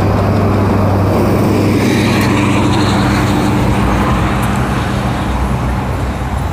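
A city street roars with traffic while a bus idles and passes close by, a constant loud low engine rumble and road hiss filling the whole stretch with no pauses.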